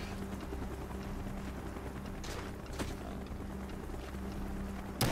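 A helicopter in the video game Call of Duty: Black Ops drones steadily with a low rotor thrum throughout, joined by a couple of brief distant impacts.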